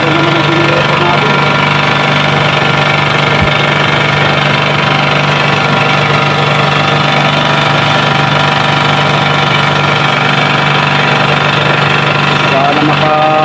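A generator engine drones steadily and loudly at a river at night while fishing, a constant low hum with mechanical rattle running throughout, without a break.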